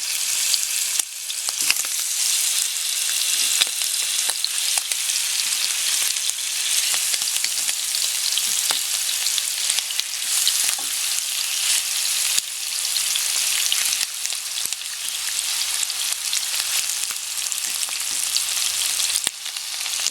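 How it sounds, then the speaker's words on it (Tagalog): Chicken pieces fry in hot cooking oil mixed with olive oil, a steady, bright sizzle with crackling pops that carries on without pause and with no voices. "Lagay na natin yung chicken. Ipa-fry natin."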